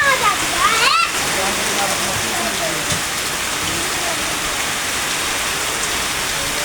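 Heavy rain pours steadily onto a film-shoot vehicle during a windy storm, a dense, close, continuous hiss of drops throughout, with a voice briefly audible near the start.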